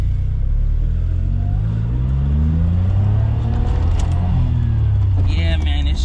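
A small Japanese kei car, a Honda Beat or Suzuki Cappuccino, driving in second gear with the engine note rising and falling through revs, a buzzy close-up drone with someone talking over it.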